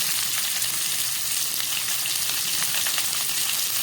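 Vegetables with salt, turmeric, cumin and chili powder sautéing in a pan for a Bengali pui shak dish, giving a steady, close, even sizzle with faint stirring crackles and no talk.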